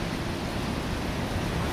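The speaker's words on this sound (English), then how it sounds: "I don't hear all that wind into the mic, but you can hear it." Strong gusting wind blowing near a home wind turbine, a steady loud roar of rushing air filling the whole moment with no voices.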